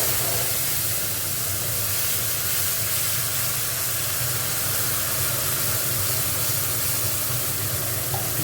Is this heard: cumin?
yes